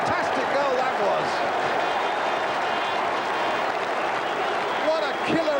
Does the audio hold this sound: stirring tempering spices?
no